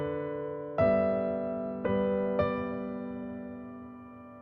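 A solo piano plays three notes from a song's melody, each struck cleanly and left to ring out and fade in a quiet room.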